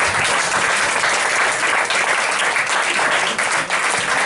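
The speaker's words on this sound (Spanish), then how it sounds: "un forte aplauso." Audience at a skeptics' talk session giving a strong round of applause, a loud, dense and continuous clapping that holds steady for several seconds.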